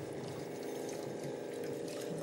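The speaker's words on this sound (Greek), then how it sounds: "περνάει το νερό από εδώ πέρα, περνάει από αυτό το λάστιχο, εισέρχεται μέσα στο Columbia 2 Plus και φιλτράρεται πλέον" Water runs steadily through a hose into a Columbia 2 Plus water filter, a constant close hiss and gurgle with no break across the short stretch.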